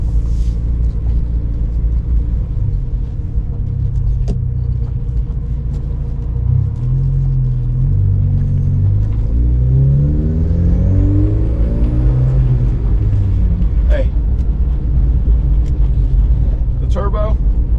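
A 1987 Porsche 944 Turbo revs while driving, its deep engine rumble rising and falling in pitch as it accelerates through gears. The sound is loud and close from inside the car, with a person talking over it.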